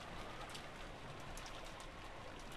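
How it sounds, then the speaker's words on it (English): Steady rain ambience from the Umineko visual novel game, a dense, even hiss of falling rain filling the scene with no other sounds. "it was very quiet, filled only with the sound of rain"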